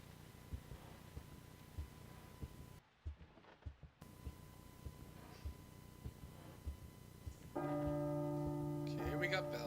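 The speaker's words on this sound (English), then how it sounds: "Okay, we got bells." Bells ring in the horror video game P.T., faint at first amid quiet static and ticks, then swelling into a louder sustained peal of tones near the end.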